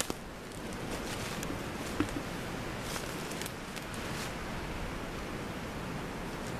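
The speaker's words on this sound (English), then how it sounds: "Right there's a creek, probably about 30 feet away from me" Soft, steady rush of a creek flowing about 30 feet away outdoors, a faint continuous hiss with a few light rustles and no talking.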